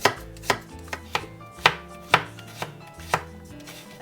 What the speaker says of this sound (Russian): Одну луковицу нарежу мелко.